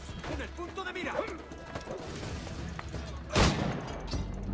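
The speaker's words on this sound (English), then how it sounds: "why is this guy shooting me?" Gunshots ring out in the Assassin's Creed IV game, with scattered cracks and one sharp, louder blast near the end, over a busy background with a voice talking.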